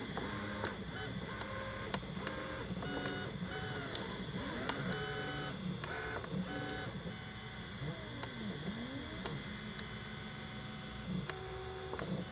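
An EasyThreeD K1 3D printer runs a print job, its stepper motors whining in shifting, sweeping tones with short pauses and steady fan hiss, close and continuous throughout.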